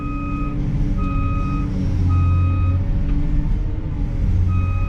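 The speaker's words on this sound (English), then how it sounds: "You couldn't have that beeping like that through a building site or whatever, or even just anywhere." Steady, loud reversing beeps from a construction machine at a machinery demo day on a pond dam build, repeating in an even rhythm over a constant low engine rumble.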